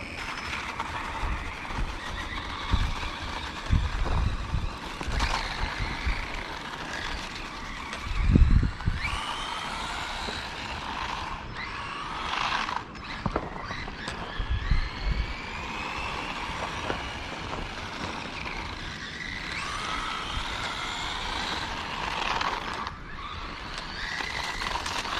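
A 1:16 scale RC truck runs in low gear, its small electric motor and gearbox whirring steadily up close, with wheels crunching and rumbling over the ground and a few louder bumps along the way.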